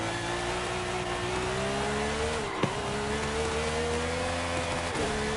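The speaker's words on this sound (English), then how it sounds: "Sounds like a V12 McLaren." Screaming V12 engine of a McLaren Formula 1 car holding a steady high-pitched howl, dipping briefly at two gear shifts before climbing again, loud and continuous with no voices.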